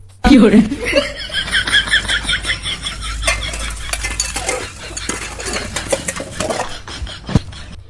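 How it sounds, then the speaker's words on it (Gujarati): Metal dishes are banged and clattered while being washed at home, with sharp clanks and scraping over a few seconds, mixed with chuckling and laughter. "આટલા બધા વાસણ કા પછાડો?"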